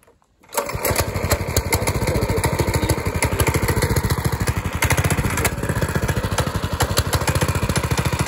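A go-kart's small motor starts up after a brief quiet moment and then runs steadily with a loud, rapid, buzzing putter close by for the rest of the time.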